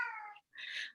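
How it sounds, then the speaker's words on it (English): A pet cat meows twice in quick succession, close and clear, with a brief silence between the two calls and no talking. "If you can hear that, that's my cat Nisi, who wanted to say hello."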